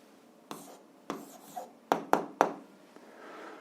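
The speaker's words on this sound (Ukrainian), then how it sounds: "Пишемо відповідь" A pen writes an answer by hand, making a few soft scratchy strokes and then several quick, sharper taps close by in a quiet room.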